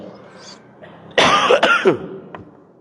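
A man coughs in a few harsh, loud bursts close by, with throat clearing, after a brief quiet lull and no speech.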